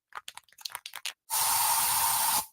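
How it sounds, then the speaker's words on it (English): Bug spray hisses from a can in a home. After a few faint clicks and rustles comes one loud, sustained blast that lasts about a second and cuts off sharply. "So you just used bug spray in your home."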